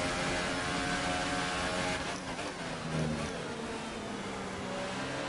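A Formula 1 car in the F1 2018 racing game, a loud, constant engine drone with gear and pitch shifts as it brakes and picks up speed again, with no speech.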